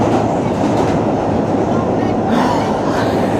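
An express subway train in New York runs at speed, a loud continuous rumble with rattling wheels and clickety-clack heard from inside the car, steady for the whole stretch.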